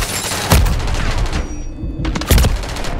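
Video game gunfire from a Renetti pistol and a shotgun: a dense run of shots with two louder, booming blasts standing out, close and loud with no talk.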